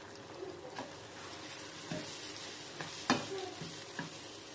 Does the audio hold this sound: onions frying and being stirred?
yes